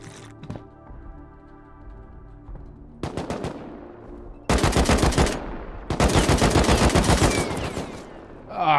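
Automatic turrets firing in the survival game Rust, bursts of rapid gunfire: a few scattered shots, then two long loud sustained volleys close by, with quieter tones underneath.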